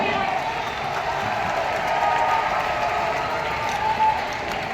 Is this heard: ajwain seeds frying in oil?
no